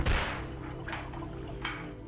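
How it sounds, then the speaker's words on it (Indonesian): Gunfire in an action film: a loud sharp shot opens the moment, followed by two fainter, shorter cracks, with a low rumbling background throughout. "tiba-tiba James mendengar suara tembakan"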